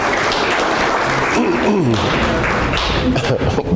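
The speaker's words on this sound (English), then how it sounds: "Let's give him more applause" An audience at a university science café applauds a guest speaker, with a voice talking over the clapping and a few thumps and taps mixed in.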